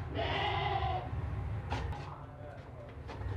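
A goat on a livestock sale lot gives one long, loud wavering bleat close by over a steady low rumble of background noise, followed by fainter rustles and movement.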